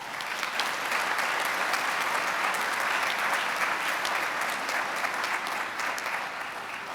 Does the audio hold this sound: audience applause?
yes